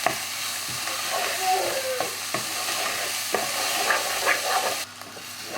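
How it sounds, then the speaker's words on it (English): Chopped onions and green chilies frying in a pan for a chicken curry, stirred with repeated scraping strokes over a steady close sizzle, with no voices. "Stir it around."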